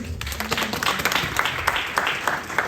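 A church congregation bursts into applause during a French-language sermon, steady mid-distance clapping filling the room for a few seconds, with a faint voice beneath it.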